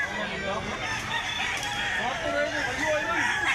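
A bullstag gamecock in Mantalungon, Cebu, crows among other clucking fowl, with overlapping calls close by and faint human voices in the background.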